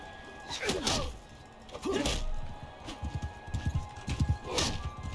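Horse hooves clop in an uneven run in the video game Bannerlord, interrupted by a few sharp whooshing hits and impacts, fairly close, with no talking.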